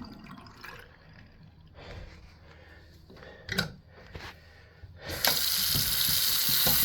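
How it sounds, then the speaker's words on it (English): A kitchen sink is rinsed while cleaning whetstones. Faint trickles and drips come first, a few brief splashes follow, and then a tap gushes loudly and steadily into the basin for the last couple of seconds. "So I'm just going to rinse the sink, get some nice fresh water in there."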